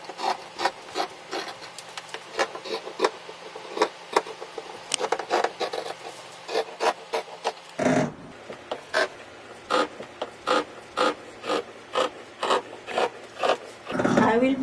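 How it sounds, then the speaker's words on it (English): Seam allowances are cut from denim pants pattern pieces in a long series of close, rhythmic rasping strokes, with a couple of louder rustling bursts. "I will be cutting the sewing allowances for back pants pattern."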